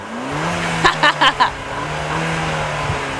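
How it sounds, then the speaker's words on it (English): A turbocharged 2014 Ford Fiesta ST engine idles with a low steady hum, then several quick sharp bursts of revving or blow-off hiss before settling back to idle. "That's some American turbocharging right there"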